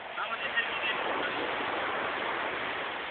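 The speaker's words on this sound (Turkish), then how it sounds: "Dalganın sesinden duyulmuyor ki." Steady broadband wash of surf rolling continuously, loud and close, with voices faintly mixed in, at Finike, Turkey.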